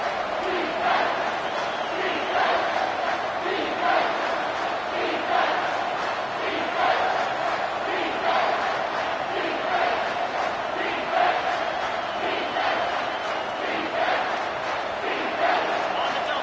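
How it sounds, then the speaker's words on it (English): A rocking football stadium crowd at Kansas State versus Ohio State roars continuously, a dense, loud wall of cheering and yelling, with announcers talking over it throughout. "with this place rocking, the crowd forces a false start"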